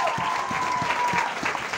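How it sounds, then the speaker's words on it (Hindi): Loud, sustained audience applause for leaders on stage at a business gathering in Nalasopara, a thick burst of clapping with a faint tone running underneath. "इनके लिए एक बार जोरदार ताली होनी चाहिए।"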